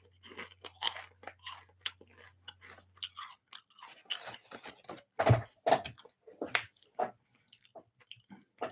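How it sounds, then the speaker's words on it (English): Someone munches crunchy potato chips up close, giving irregular crisp crunches and chewing sounds in short bursts, some sharper bites standing out over quiet pauses. "a cup of coffee here and this a little bit of potato chip side is perfect"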